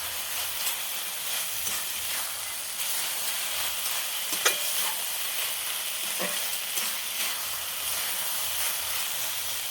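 Ingredients for khichuri fry in a pan on a kitchen stove, giving a steady, close hiss and sizzle throughout with a few faint stirring scrapes and clicks on top.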